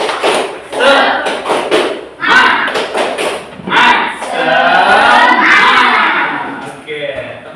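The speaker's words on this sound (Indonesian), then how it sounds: "mari kita tepuk semangat dulu bersama-sama" Schoolchildren in a classroom lesson perform a loud rhythmic group clap routine, bursts of hand claps and thumps mixed with children's shouted voices, with short pauses between sections.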